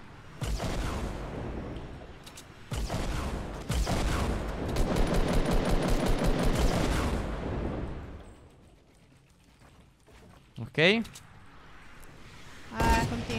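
Rapid bursts of Fortnite gunfire crackle in dense volleys, then die away; a short exclamation and a sharp electronic whoosh follow.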